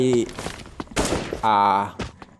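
A few rounds from an AK47 rifle fired in a video game, short loud bursts separated by pauses, with someone talking in between the shots.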